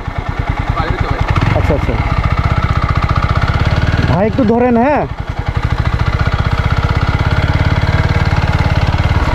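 A motorcycle engine idles on a damaged, rain-muddied road between Thanchi and Bandarban, with a steady low throbbing pulse throughout. Someone talks close by over the engine.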